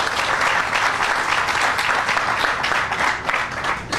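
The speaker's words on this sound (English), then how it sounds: "So I want to applaud both of you for that." An audience at the Park Station Lofts groundbreaking gives continuous, close, full applause, a dense and even stream of claps with no talk over it.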